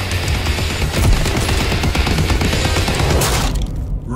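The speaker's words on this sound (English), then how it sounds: "The Fully Automatic M2 Carbine Rifle." Fully automatic M2 Carbine rifle firing in Call of Duty WWII, a loud sustained burst of rapid shots with booming low-end reports that runs nearly four seconds before cutting off abruptly.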